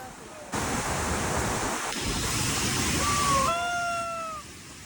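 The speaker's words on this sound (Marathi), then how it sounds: "जसं जसं वॉटरफॉलचा आवाज वाढत होता तशी तशी मजा येत होती." Waterfall roaring as it is approached along a hillside path: a dense, steady rush of water fills the scene continuously, with a few thin high tonal calls rising over it near the end.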